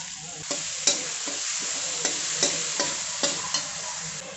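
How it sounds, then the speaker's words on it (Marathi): Green chili, garlic and cumin paste frying in a kadhai, a bright continuous sizzle with regular spatula stirring strokes every half second or so, close and alone. "दोन टेबलस्पून मिरचीचा ठेचा टाकून घेत आहे"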